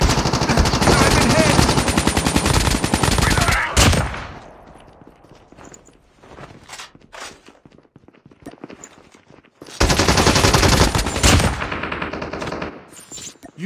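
Automatic gunfire in the Call of Duty video game, dense loud bursts at the start and again near the end, with quieter scattered shots, footsteps and game sounds in between.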